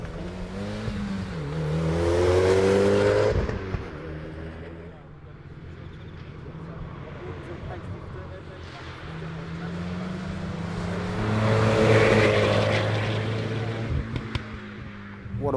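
A modified Mitsubishi Evo X all-wheel-drive rally car drives on a tarmac rally track, the engine swelling and falling through gears in two loud revving surges, heard from inside the car.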